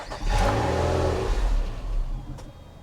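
An abandoned Cadillac Seville with a weak battery catches and runs with a steady, close engine rumble for a couple of seconds before fading as it shuts off.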